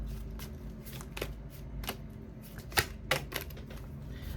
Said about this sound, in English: Let me continue to shuffle up these cards real quick for y'all.